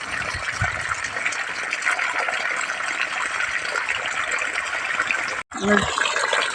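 Irrigation water rushes steadily from a pipe among pigeon pea plants, a continuous splashing hiss that cuts out briefly near the end before resuming.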